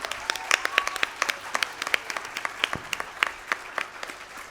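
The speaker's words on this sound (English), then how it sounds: "Can we have a louder round of applause for Kritika today?" Audience applause at a Bharatanatyam arangetram for the dancer Kritika: sparse, distinct hand claps from a modest crowd, moderately close and fairly quiet, scattered irregularly with no talking.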